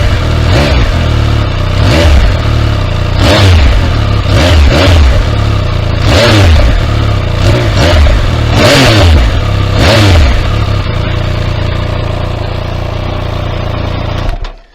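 Triumph 1200 RS Speed Triple motorcycle exhaust, loud and close, blipped through about six sharp throttle revs that rise and fall over a burbling idle, then settling into a steady rumbling idle, no talking.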